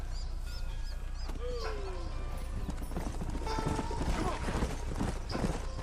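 Horse hooves clip-clop steadily in the Red Dead Redemption video game, a continuous mid-distance trot with a brief whinny and birdsong in the background.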